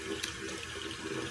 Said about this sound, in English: I'm going to add just a little bit of water to my bowl